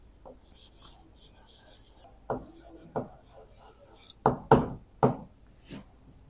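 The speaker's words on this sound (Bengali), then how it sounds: "ইথেনোইক অ্যাসিড যারা বাংলায় লিখতে চাও তাদের জন্য লিখে দিচ্ছি" Chalk or marker writing on a board makes a faint scratching that comes in short, separate strokes, with a few sharper taps and scrapes near the end. No voice is heard.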